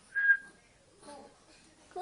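An African grey parrot gives a short, clear whistle, followed by faint, quiet chirpy vocal sounds in an otherwise hushed room.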